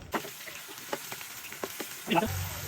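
A paste of onion, garlic, cumin, mustard and green chili hits a hot pan for a fish curry with brinjal and potatoes, giving a quiet sizzle with sharp spatula scrapes and a louder crackling burst near the end.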